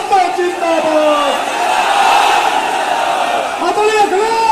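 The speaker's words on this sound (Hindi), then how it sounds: "जोरदार नारों के साथ, जोरदार तालियों के साथ आदरणीय अखिलेश यादव जिंदाबाद" Crowd at an Akhilesh Yadav political rally shouting loud cheers and slogans in a sustained roar, with a voice over the public address rising above the noise.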